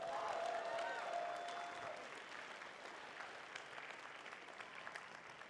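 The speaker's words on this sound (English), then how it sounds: "So let's give them a big round of applause as well." Audience applause at a furry convention's opening ceremony, a broad wash of clapping that is fullest at the start and tapers to a thinner, steady patter.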